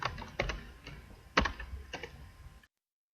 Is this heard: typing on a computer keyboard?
yes